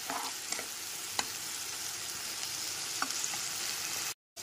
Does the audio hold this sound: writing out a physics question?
no